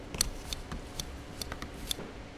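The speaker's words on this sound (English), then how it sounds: "we harvest with a pair of scissors" Several quick crisp snips of scissors harvesting microgreens, close by and fairly quiet, with a faint rustle between cuts.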